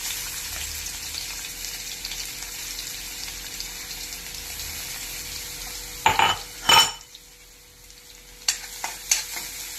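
Crushed garlic cloves frying in hot oil for a wild vegetable dish, a steady broad sizzle filling the pan, broken near the end by a few louder stirring scrapes and clinks.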